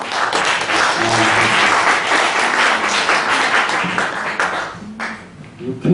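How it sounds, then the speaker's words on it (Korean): Enthusiastic audience applause fills the room at a lecture, dense and sustained for several seconds, with a few voices mixed in. "박수 한번 주시죠"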